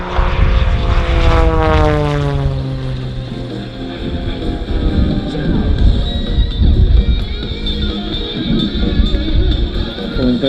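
A solo aerobatic propeller plane roars low past the crowd at an Avalon airshow at about 400 km/h. The engine snarls loudly as it approaches and sweeps by with a Doppler fall, then continues as a sustained propeller drone.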